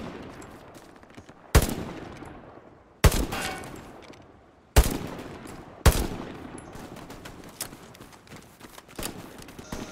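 Gunfire in the Hell Let Loose video game: four loud, sharp shots at irregular intervals, each ringing off in a long echoing tail, with quieter distant pops scattered between them.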